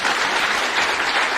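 An audience at a formal launch event breaks into loud, dense applause after a speech, a continuous wash of clapping filling the room with no pauses.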